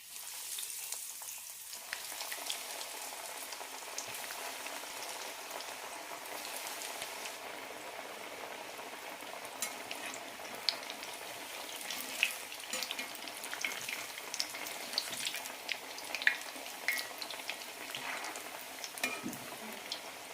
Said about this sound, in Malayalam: ഫ്രൈ ചെയ്തെടുക്കാം എണ്ണ ചൂടായിട്ടുണ്ട് ഓരോന്നായി ഇടാം